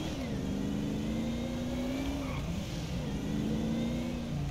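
Car engine in GTA 5 accelerating near a Porsche dealership, a steady mid-pitched drone rising and settling as the gas is pressed, continuous and fairly loud throughout with no voices.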